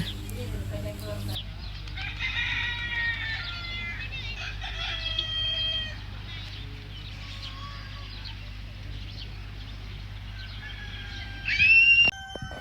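Chickens roam a small zoo in Qatar, clucking and calling at moderate distance over low outdoor rumble, with a short burst of louder crowing and a sharp whistle-like call near the end.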